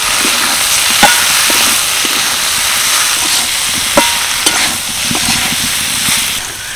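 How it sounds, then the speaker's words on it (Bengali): Spiced bitter gourd is stirred in a hot pan, a steady close sizzle with repeated scrapes and taps of the spatula against the metal, and no voices. "এবার ভালো করে মিশিয়ে নেব।"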